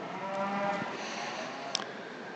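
Angus cattle low in a long, steady moo at a state fair beef cattle show arena in Nebraska, with faint background crowd noise and a brief sharp click.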